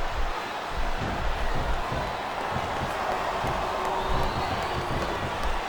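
Wrestling arena crowd at a WWE Unforgiven event roars with steady cheering and shouting, a dense continuous wash of voices held at an even level throughout with no clear individual words.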